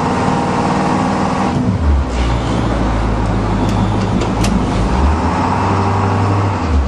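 A 2009 International school bus stuck and spinning its wheels, a loud engine drone that surges and drops as it rocks, with grinding road noise up close.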